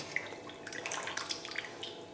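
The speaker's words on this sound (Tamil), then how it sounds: "சுடுதண்ணிலே இன்னி 2-3 தடவை இது போல் கழுவிக்கலாம்." Goat intestines being washed in water give off a brief burst of wet dripping and splashing, soft and close, with small irregular splats over about two seconds.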